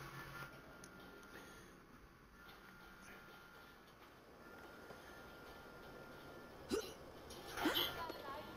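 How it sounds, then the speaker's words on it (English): A man lets out a burp while playing a video game, a short throaty burst followed by a second louder one near the end, over a low steady background hum. "Excuse me, I had to burp"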